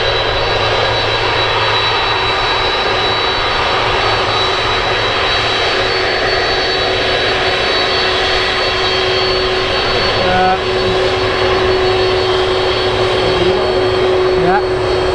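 Jet aircraft engines roar steadily at Manchester Airport, a loud continuous broadband rumble with a sustained tonal whine throughout, heard from a spotting park close to the runway.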